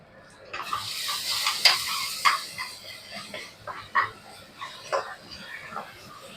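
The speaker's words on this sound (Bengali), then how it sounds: "আমার পেঁয়াজও গোল্ডেন হয়ে গেছে, আদা রসুন পেস্টটাও ভাজা হয়ে গেছে" Onion and ginger-garlic paste fry in oil in a pan for a spiced jackfruit curry, with a soft sizzle broken by irregular scraping stirs of a spatula at close range.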